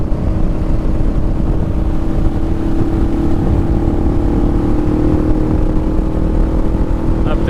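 A motorcycle engine builds steadily in volume while gaining speed down a hill, a continuous loud drone with no words spoken over it.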